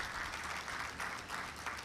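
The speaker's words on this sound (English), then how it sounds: "So let us give a big round of applause to sir." An audience at a formal gathering breaks into applause, a dense, steady wash of clapping that carries evenly from start to finish.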